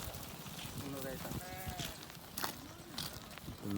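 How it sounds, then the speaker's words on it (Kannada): A large village flock of around 350 sheep passing by, with several wavering bleats rising over a constant shuffling murmur as a voice talks nearby. "350 ಕುರಿ ಬರ್ತಾನೆ ಐತೆ ನೋಡಿ, ಬರ್ತಾನೆ ಐತೆ."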